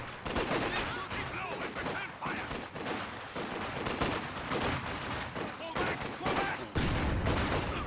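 Rapid crackling bursts of rifle gunfire in a tabletop wargame match, dense and continuous with overlapping volleys and a louder shot near the end.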